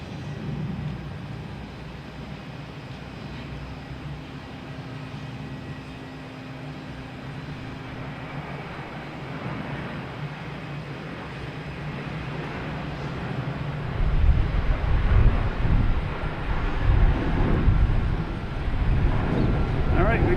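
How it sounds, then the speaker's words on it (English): A JetBlue Airbus A321 airliner bound for Seattle at Boston Logan Airport gives a steady distant jet rumble that grows louder and rougher near the end, with a voice talking over it. "So here is a JetBlue heading to Seattle on A321."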